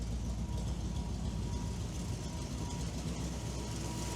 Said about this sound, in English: You can hear the exhaust tone more up there in the middle of the car where the exhaust leak is.